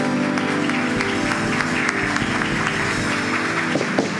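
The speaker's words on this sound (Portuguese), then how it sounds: "Recebeu a paz do Pino com a salva de palmas." A round of applause fills a church anniversary celebration, steady clapping from the congregation running continuously for several seconds at moderate loudness with a busy, dense texture.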